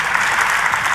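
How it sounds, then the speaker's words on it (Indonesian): Church congregation applauding in praise during a worship service, a brief, loud, dense sheet of clapping that stays constant throughout. "yuk tepuk tangannya sekali lagi, boleh yang paling dahsyat buat Yesus Tuhan kita"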